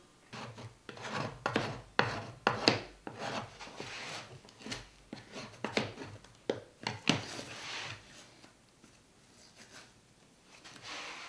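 A card scraper rasps repeatedly across a wooden box, stripping off material in uneven, close scraping strokes that come in bursts and then thin out.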